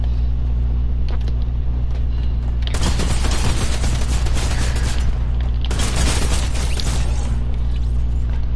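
Video game gunfire in bursts of rapid shots, loud and close, with a steady low engine-like hum beneath, two dense volleys in the latter half after scattered single shots.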